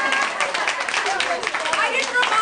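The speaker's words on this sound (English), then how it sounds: "Let's clap for Gary." An audience claps for a performer at a women's writing reading event: dense, continuous applause at close range, steady throughout with a voice or two mixed in.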